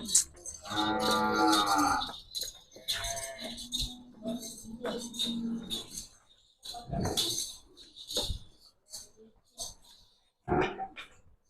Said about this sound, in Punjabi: ਇਹ ਜਿਹੜੀ ਆਪਾਂ ਤੁਹਾਨੂੰ ਮੱਝ ਦਿਖਾ ਰਹੇ ਹਾਂ ਇਸ ਵਕਤ